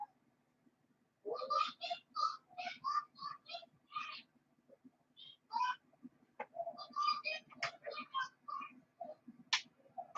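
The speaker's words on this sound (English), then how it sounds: "That's a bird making that noise?" A bird calls repeatedly in a long series of rapid, throaty notes, close and fairly clear, with a brief pause midway before the calling resumes over a faint low background hum.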